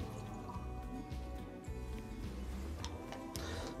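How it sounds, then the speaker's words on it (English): Whisky samples, a Tomatin and a Deanston, poured into glasses, giving soft liquid trickles and drips over a low steady background with no one talking. "So just let me just pour these samples"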